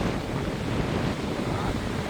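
Sea surf rolls onto the shore at Lapmeži village on the Latvian coast as a constant, dense wash of crashing water, heavy with wind buffeting.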